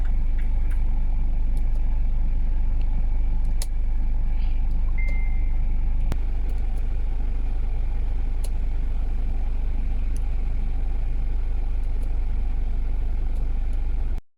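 Chevrolet Captiva diesel idling with its air conditioning compressor cycling, a steady low engine rumble with faint clicks and a brief higher tone partway through, heard close and without talk.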